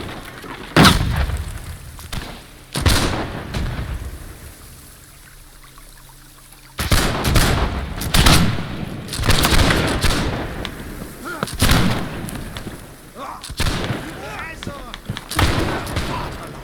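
Massed musket gunfire and booming artillery in the Napoleonic-era multiplayer game Holdfast: Nations At War, with loud irregular volleys and blasts scattered across a chaotic battlefield, separated by quieter gaps and a steady running-water-like background.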